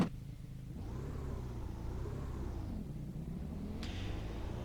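A race car engine in the iRacing sim racing game starts and revs. It gives a steady rumble with two rising rev swells and a sharp mechanical click near the end, moderately loud, with no voices.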